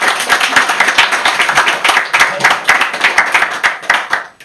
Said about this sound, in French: Applaudissements pour Morgane, s'il vous plaît